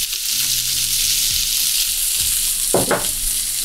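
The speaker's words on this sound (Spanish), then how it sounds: "a fuego medio o medio alto y vamos a agregar la espinaca" Fresh spinach sizzling and frying in a pan over medium-high heat, steady crackling hiss with a few soft stirring scrapes, close and loud, no talk.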